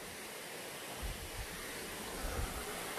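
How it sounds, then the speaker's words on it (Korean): Mupung waterfall pouring steadily, a dense, even roar of falling water heard from nearby, continuous and fairly soft with no voices. "자, 무풍 폭포."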